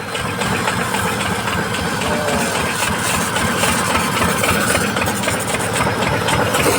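A motor-driven pump engine spraying pesticide runs steadily nearby, still at low speed, with a loud, even chugging drone and faint rattling throughout.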